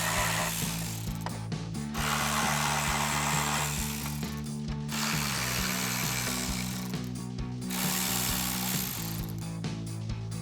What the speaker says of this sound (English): After that, you want to remove these 7 bolts on top. We're going to be using a 7mm socket and a ratchet.